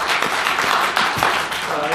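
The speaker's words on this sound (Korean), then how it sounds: "뜨거운 박수 한번 하겠습니다." A crowd at a Korean political rally applauds, a dense steady wash of clapping that holds loud for two seconds, with a speaker's voice faintly mixed in.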